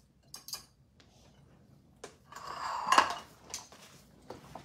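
A spoon clinks against a bowl while vinegar dipping sauce is stirred, a few light taps, then a longer bright scraping swirl and more scattered clinks, close and fairly quiet.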